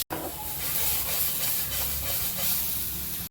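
Onions sauté in a pan for Chettinad mutton gravy, producing a steady, loud hissing sizzle close by with faint stirring scrapes, holding nearly constant throughout before cutting off abruptly.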